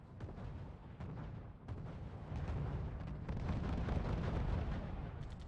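Rockets striking positions in RUSE during a France versus Germany match on the Nuclear Winter map, with muffled distant booms and a rolling rumble that builds into a sustained barrage.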